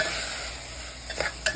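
Ground spices stirred in a hot pan while cooking a vegetable kurma, with a soft steady sizzle and a few scraping stirs of the spoon near the end.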